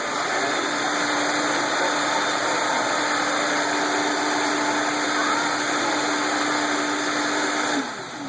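Vitamix blender running steadily at high speed while blending a mix with agave, a loud continuous whirring roar that holds evenly before cutting off abruptly as the machine shuts itself off near the end.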